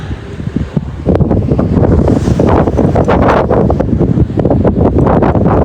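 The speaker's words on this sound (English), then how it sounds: "Getting windy out there." Strong wind buffets the microphone outdoors in the Utah mountains, a loud continuous rumble with gusting roar that swells after the first second and stays heavy throughout.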